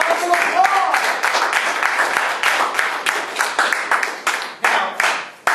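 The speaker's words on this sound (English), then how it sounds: "round of applause" A classroom of students applauds a group with brisk, dense hand clapping up close, the claps thinning and fading toward the end, a few voices mixed in.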